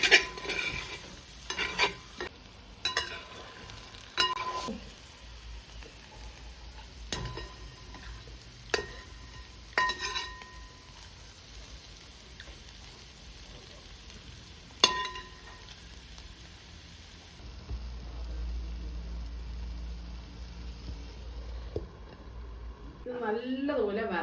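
Conch stir fry cooked Kerala style in a pan is stirred with a spoon, giving repeated sharp scrapes and clinks over a low sizzle, while a person talks through most of it.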